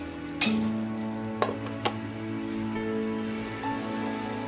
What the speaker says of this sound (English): I will cover it and allow it to just simmer for 2 minutes.